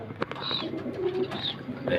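Pigeons coo softly nearby in low, rolling calls, with flutters and faint rustling in the background.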